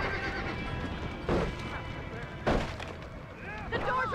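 Horses whinny a couple of times amid a busy, noisy scene in Red Dead Redemption at a barn, with loud bursts and a voice calling out near the end.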